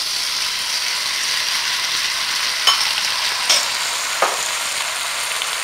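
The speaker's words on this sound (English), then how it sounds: "Our onions are now getting to be translucent, so now we're going to start adding our other ingredients." Onions sizzling in a pan as tomatoes go in for a shrimp and tomato stew: an even, hissing fry throughout, with a few brief clinks of a spoon or utensil.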